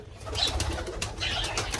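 Pigeons in a pigeon loft giving soft cooing calls, two short bursts close by over faint background rustle.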